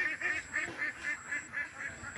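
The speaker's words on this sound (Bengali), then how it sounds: "কত সুন্দর হাঁসের দল বিশাল বড় পুষ্করিণীতে সাঁতরাচ্ছে" A large flock of ducks swimming on a big pond gives a steady run of nasal, honking quacks, calls overlapping in a quick repeating rhythm at moderate distance.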